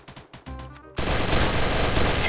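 Gunfire in the Free Fire mobile shooter game, a few sharp separate shots followed by a sustained dense burst of automatic fire, loud and close.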